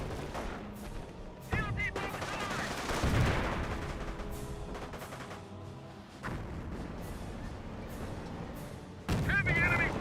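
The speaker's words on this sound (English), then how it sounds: "Heavy enemy fire on our position." Battle sounds from Company of Heroes, with sharp gunshots and heavier booms of mortar fire going off at intervals, mixed with in-game voices and moderately loud explosions.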